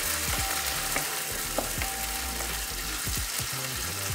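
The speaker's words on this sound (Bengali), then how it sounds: "আদা রসুনের কাঁচা গন্ধটা যাওয়া পর্যন্ত একটু নেড়ে নিতে হবে ভালো করে।" Ginger and garlic frying over medium-low heat for matar pulao, a steady dense sizzle with repeated scraping strokes of a spoon stirring through the pan, close up.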